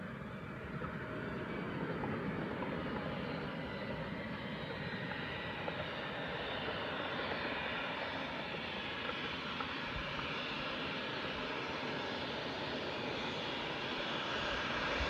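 A Falcon 20 jet lands on a runway, its engine noise a steady, loud, broadband roar that holds evenly throughout without any voices.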